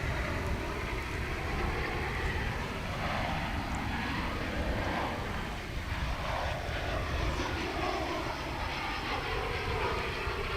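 American Airlines Flight 1460, just landed at DFW from Wichita, gives off a continuous loud engine roar with a sweeping, shifting whine as it rolls, alone without talk.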